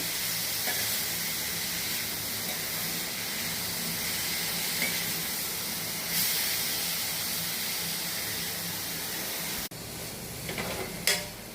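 A coconut and jaggery filling cooks down in a pan, giving off a continuous even sizzling hiss with faint stirring scrapes and a brief clatter near the end.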